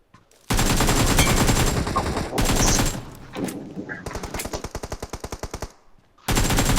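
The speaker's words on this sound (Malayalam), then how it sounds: "ബാക്ക് വണ്ടിന്റെ വെടിയാണ്" Bursts of rapid automatic gunfire in a battle royale video game, loud and close, with long sustained strings of shots separated by short gaps and one slower, evenly spaced volley.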